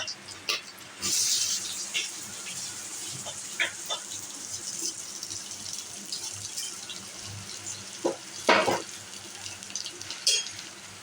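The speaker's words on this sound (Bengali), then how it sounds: "চালটা দিয়ে ভেজে নিচ্ছি" Rice frying in a pan for pulao gives a continuous soft hiss of sizzling, with occasional sharper scrapes and clinks from stirring, close by and fairly quiet.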